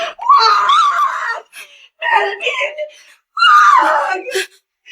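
A woman screams in a Filipino drama story: three loud, anguished screams and wails, each a second or more long, with brief silent gaps between them.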